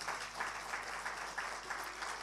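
A church congregation claps together in a continuous, rhythmic burst of applause that sounds somewhat distant and soft, with no voices standing out above it.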